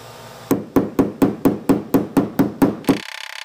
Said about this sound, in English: You hold on, I'm gonna hammer this way.